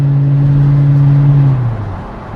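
A 203k-mile Mercedes R230 SL500 V8 holds a steady, loud drone under a failing, slipping transmission, then the pitch sags and the engine note fades away, with no talking.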